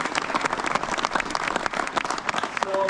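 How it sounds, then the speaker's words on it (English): Crowd applause at the opening of the Brady Tunnel on the Armstrong Trails, a close, lively burst of many people clapping with clear individual hand strikes, continuous for a few seconds. "So let's give them a round of applause."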